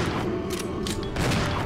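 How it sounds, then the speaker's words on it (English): Dense, loud gunfire from the video game Resident Evil 0 fills the moment as rapid, overlapping bursts against a heavy low rumble, with no talk over it. "I'm firing."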